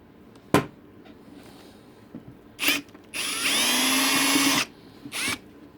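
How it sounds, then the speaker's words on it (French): A power drill unscrews a screw from a Scarpa F1 ski boot: a few short whirring bursts, then one sustained loud spin lasting over a second, and a final brief burst, close and clear. "Donc là je vais dévisser"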